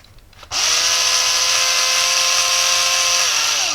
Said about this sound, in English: It's not pulling very much because this drill is 20 volts.